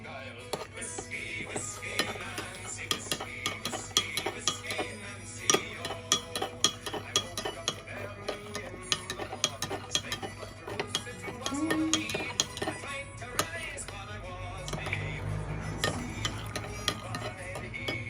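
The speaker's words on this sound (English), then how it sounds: "And then stir it up and dissolve it." Irish stew ingredients stirred in a pot to dissolve them, with a spoon clinking and scraping against the pan in a steady, close, busy rhythm over a low background hum.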